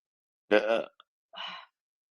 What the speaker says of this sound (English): I burp when I'm moving energy for the collective.